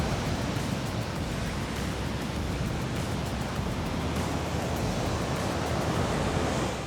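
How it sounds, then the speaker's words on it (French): Big ocean swells break at a surf spot in a steady, loud roar of surf and wind, a dense wash of noise with no voices. "il y a les grosses houles qui arrivent"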